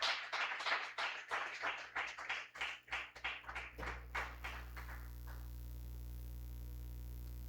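A church congregation claps together in a quick, rhythmic run of sharp hand claps that fades out after a few seconds, leaving a low steady hum.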